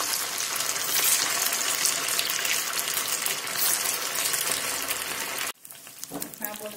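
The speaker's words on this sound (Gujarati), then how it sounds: "આપણું તેલ ગરમ થઈ ગયું છે તો બનાવેલા બોલ્સને આપણે તેલમાં લઈ લઈશું" Leftover masala rice balls dropped into hot oil in a kadai, with a loud, dense broadband sizzle and crackle of deep frying that cuts off abruptly near the end, leaving quieter bubbling.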